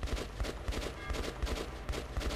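Rapid gunfire in the game Metro 2033 Redux, a steady run of dense low bursts repeating close together, loud and continuous without pause.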